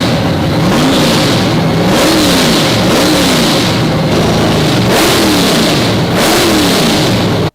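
Supercharged 9.8-liter big block V8 revs repeatedly, rising and falling in roughly five or six swells over a constant loud roar, close and dominant with no voices.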